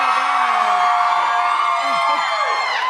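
A live crowd at a pop-up event cheers and whoops loudly and steadily throughout, with high yells rising above the dense roar.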